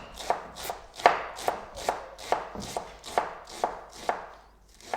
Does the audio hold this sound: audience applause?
no